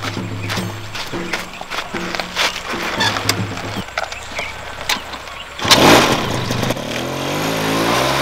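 A motorbike engine idles and runs through a village comedy skit, a steady low mechanical drone with a louder burst near the middle, heard alone without talk.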